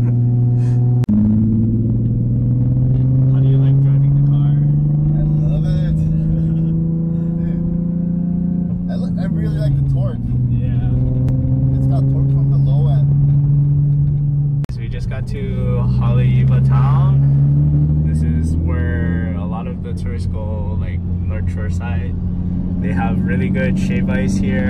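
A Nissan 370Z with a Tomei exhaust drives along, its engine droning and rising and falling through shifts. People talk over it inside the car the whole time.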